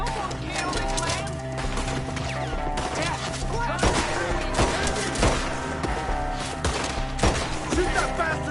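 Gunfire in a Red Dead Redemption 2 shootout among trees: rapid, overlapping shots cracking in quick bursts over a constant busy background, with shouting voices mixed in.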